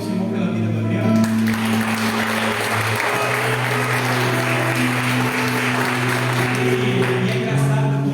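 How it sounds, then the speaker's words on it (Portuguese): A church congregation breaks into sustained applause, a steady wash of many hands clapping over low, held organ-like tones that continue underneath throughout. "A gente pode aplaudir o Senhor pela vida do Adriano?"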